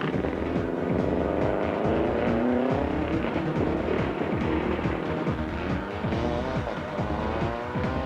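A rally car on a stage of the 1999 Circuit of Ireland, struggling with only two gears, revs hard and loud up close, engine note rising and falling in repeated sharp shifts and bursts.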